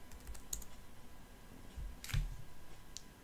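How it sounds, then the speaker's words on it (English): Keystrokes on a computer keyboard while entering an uninstall search for Kaspersky in Windows, a few scattered clicks in two short bursts, close and fairly quiet with no talking. "Next, we will type uninstall"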